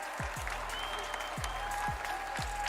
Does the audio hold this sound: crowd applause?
yes